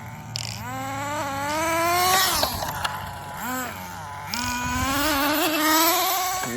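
An HPI RS4 nitro RC car engine with a new light kit runs nearby, its high buzzing whine rising and falling as the throttle revs up and eases off, no talking.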